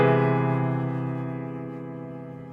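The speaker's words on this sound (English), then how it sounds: "Now this is the sound of augmented major seventh chord." An augmented major seventh chord in root position, struck once and left to ring, its steady tone fading slowly over a couple of seconds with nothing else heard.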